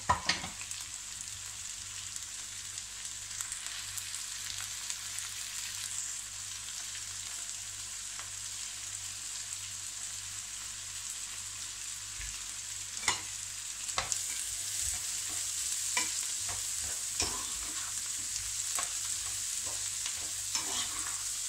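Bell peppers and onions fry in a pan, a quiet steady sizzle with occasional scraping stirs and clicks of the utensil, no voices.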